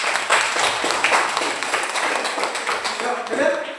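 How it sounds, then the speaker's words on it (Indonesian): Classroom applause from a group of students, steady hand clapping filling the room at moderate volume throughout, with no talk over it. "Tepuk tangan."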